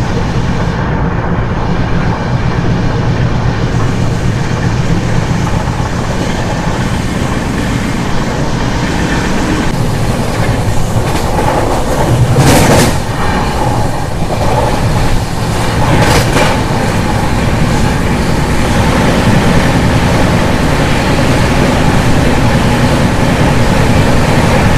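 Tatanagar–Ernakulam Express running between Tangutur and Singarayakonda stations, a loud, steady rumble of the moving train with rail noise throughout and a few brief sharper bursts midway.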